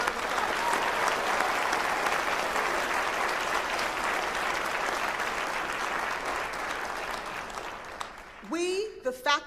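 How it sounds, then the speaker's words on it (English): An audience applauds for Bloomfield College at a Women of Vision and Courage event, a dense, sustained clapping that fades near the end as a voice begins speaking. "Let's give the college a round of applause."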